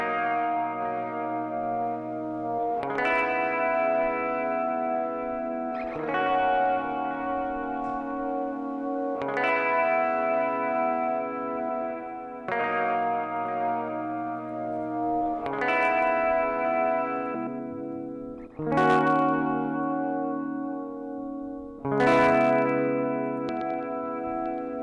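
Music sent through the T-RackS 5 Space Delay plugin: sustained chord-like tones change every three seconds or so, each entry trailed by echoing repeats and a wide, washy tail, steady and moderately loud with no voices.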